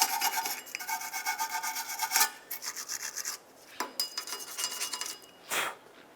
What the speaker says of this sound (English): So I'm just going to take a wire brush and lightly clean off any rust or buildup that might be on there.